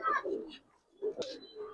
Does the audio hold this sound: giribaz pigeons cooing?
yes